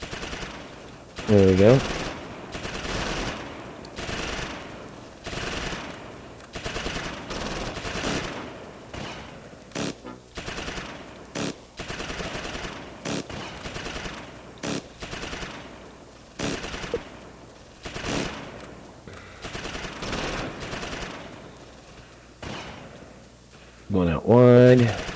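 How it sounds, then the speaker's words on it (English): Repeated machine gun bursts rattle through a Close Combat Normandy invasion battle, sharp volleys recurring across the stretch with someone talking over them. "that was a nice little machine gun burst"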